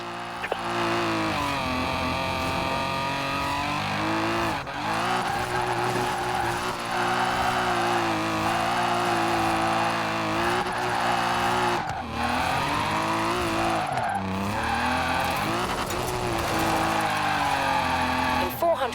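Tires squeal continuously as a car drifts in Forza Horizon 4, a loud sustained screech layered over a steady engine drone with brief dips where the slide eases, a voice occasionally speaking over it.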